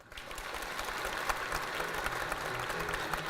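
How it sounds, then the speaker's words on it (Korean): An audience claps steadily for the South Korean president after his speech during a visit to Daejeon, a dense, sustained wash of applause from a large indoor crowd with no talking over it. "다시 한번 대통령님께 박수 부탁드립니다."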